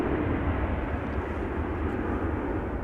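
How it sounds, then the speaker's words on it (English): Embraer 190 airliner taking off at Amsterdam Schiphol, a steady broad distant jet roar with no breaks over the short stretch. "Embraer 190 taking off."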